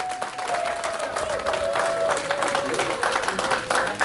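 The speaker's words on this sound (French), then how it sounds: "Est-ce qu'on peut applaudir très très fort?" Wedding guests at a celebration clap and cheer together in a room, a dense, sustained round of applause with a steady tone droning underneath and voices mixed in.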